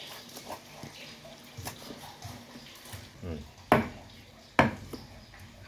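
A knife chops a whole tilapia into small pieces on a board for spicy larb, with a couple of sharp, loud chopping strikes standing out over quieter cutting and nearby voices.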